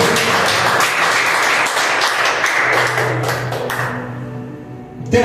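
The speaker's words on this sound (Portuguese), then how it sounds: "aplauda o nome do Senhor Jesus" A church congregation at a Baptist service applauds in a steady, dense wash of clapping that holds for several seconds, then thins and fades near the end.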